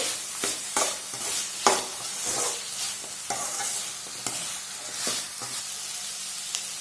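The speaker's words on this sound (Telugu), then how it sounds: "వేసుకొని పచ్చివాసన పోయేంత వరకు ఫ్రై చేసుకుందామండి ఈ అల్లం వెల్లుల్లి పేస్ట్ని." Ginger garlic paste frying in a pan, a loud close sizzle broken by repeated scraping stirs of a spatula, steady hissing between strokes.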